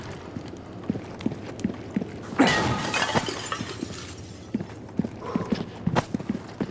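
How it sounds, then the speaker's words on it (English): A box smashed in the Resident Evil 4 video game: a sharp crash with a splintering burst mid-clip, set against steady rhythmic footsteps and small knocks before and after. "Smash the box."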